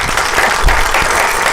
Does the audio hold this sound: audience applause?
yes